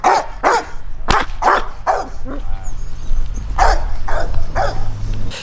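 Dogs at a dog training academy in Kenya bark repeatedly and loudly at close range in irregular bursts, with some yips and a whimper mixed in over a low background hum.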